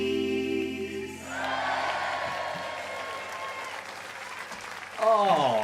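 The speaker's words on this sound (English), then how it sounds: "Oh, so nice, that round of applause," Audience applause swells in after music fades, a steady wash of clapping lasting several seconds before a voice begins speaking over it.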